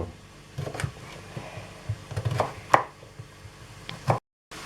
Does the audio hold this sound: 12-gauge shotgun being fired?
no